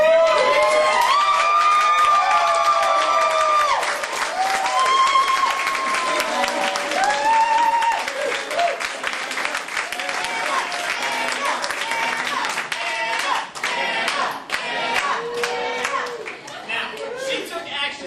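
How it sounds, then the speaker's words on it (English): A group at a meeting stands and claps and cheers, with sustained loud applause, whoops and shouts mixed with voices, gradually thinning toward the end. "I need everybody to stand up, clap, cheer like she is Miss America."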